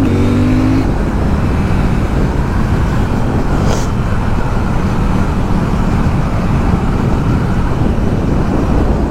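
A CFMOTO 800 NK Advanced motorcycle cruises calmly with a steady, loud engine drone and wind rush, the rider holding a relaxed pace without revving hard.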